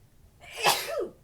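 A single sneeze, a sharp breathy burst rising and then dropping off, moderately quiet and heard on its own.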